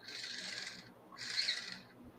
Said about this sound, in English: Geez, what is this screaming? It hurts my ears. Screeching? It's a bird.